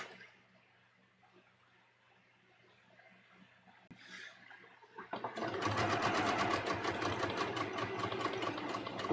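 A sewing machine back-tacks a few stitches along the neckline of a bias-cut V-neck dress; after a quiet start with faint handling noise, the motor kicks in loudly and runs steadily to the end.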